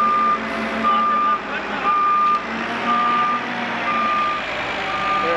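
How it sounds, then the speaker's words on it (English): A truck backs up at a tree-removal job, its reversing alarm beeping in steady, evenly spaced pulses over a continuous engine rumble, close and loud. "truck will back up. Put it on his bed."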